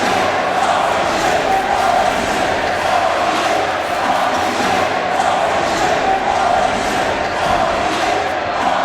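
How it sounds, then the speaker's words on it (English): A wrestling crowd goes wild during a cage match: a dense, sustained roar of cheering and yelling that stays loud and unbroken throughout. "Crowd is absolutely going insane here"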